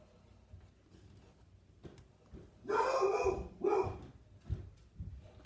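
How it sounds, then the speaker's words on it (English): A couple of muffled dog barks in quick succession, somewhat distant, with faint thuds and background noise before and after. "Sorry, my dogs are barking."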